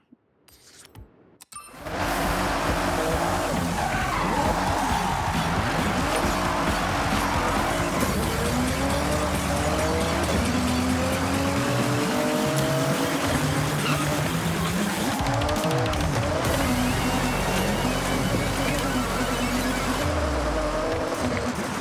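A car on race tires drives off-road in Forza Horizon 6, its engine droning loud and steady, rising and falling in pitch as it shifts gears, with a rough rumble of terrain underneath and no talking.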